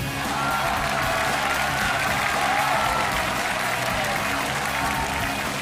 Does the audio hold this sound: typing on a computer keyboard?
no